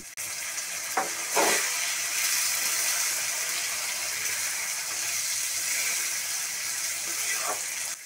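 Spices frying in a pan for fish curry, a steady broad sizzle running throughout, with a couple of sharper stirring scrapes near the start and another near the end.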